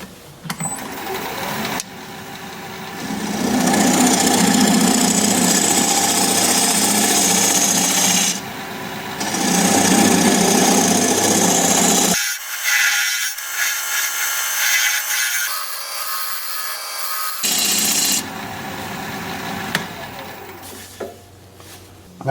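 Wood turning tool cutting a recess into a bowl spinning on a lathe, a loud continuous scraping roar that drops out briefly midway, then resumes with intermittent cutting.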